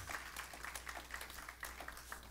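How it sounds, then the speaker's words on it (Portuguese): A church congregation applauding during a sermon, with a rapid, steady patter of many hands clapping, soft and somewhat distant, lasting only a couple of seconds. "Dá um aplauso ao Senhor"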